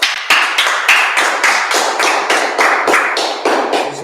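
Audience clapping in rhythmic unison, about fourteen loud, sharp, evenly spaced claps close by, with no talk over them.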